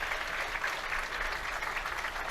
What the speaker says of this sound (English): applause from both teams